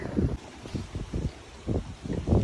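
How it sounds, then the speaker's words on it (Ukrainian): Strong wind buffets the microphone outdoors in a vegetable and flower garden, rumbling in repeated gusts with short lulls between them. "І вітер сильний."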